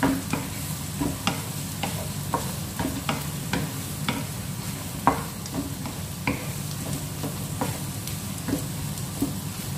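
Sweet corn tossed into a pan with onion and stirred for a creamy paprika dish: a spatula clicks and scrapes in a steady, repeated rhythm over a low, constant sizzle, close and moderately quiet.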